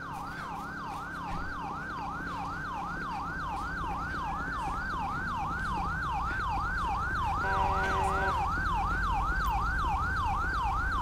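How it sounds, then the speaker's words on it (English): A police siren in Grand Theft Auto V with the LSPDFR mod wails continuously in a fast, repeating rise-and-fall pattern, loud and steady, with a low engine hum underneath. "That's my siren still going off."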